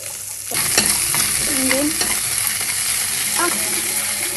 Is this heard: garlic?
yes